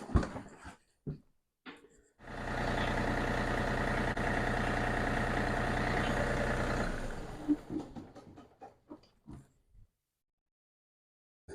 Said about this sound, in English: First time we'll try to start the tractor.